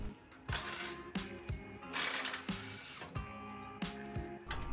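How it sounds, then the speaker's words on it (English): A ratcheting 14mm socket wrench working sway bar mounting bolts at a vehicle frame, repeated clicking strokes in an uneven rhythm, close and fairly loud, with no talk. "I'm going to remove the sway bar mounting bolts at the frame using a 14mm socket"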